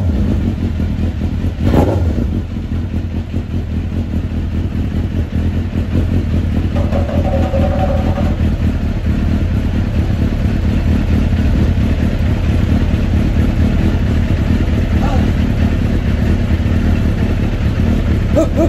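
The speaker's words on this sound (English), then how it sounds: "why not start the motorcycle?" A 2002 Suzuki Gixxer 1000 motorcycle engine runs loud and close, a steady, throaty idle holding throughout with a brief sharper note near the start, no talk over it.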